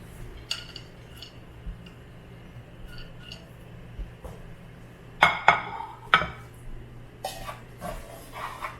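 Almonds stirred in a pan with a teaspoon of oil, giving sparse light scrapes and clinks, with a few louder metallic knocks and a quick cluster of scraping toward the end.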